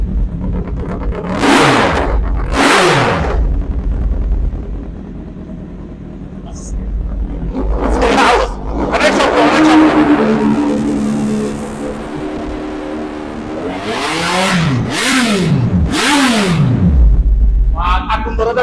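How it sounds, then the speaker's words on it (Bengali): A four-cylinder motorbike fitted with an Alto 800 car engine, showing 29,000 km, is revved hard in several loud, roaring bursts that rise and fall, with someone talking over and between the revs. "4 সিলিন্ডারের বাইক, মানে একটি 800 কার, যে অল্টোকারের ইঞ্জিন এটা রয়েছে বাইকের"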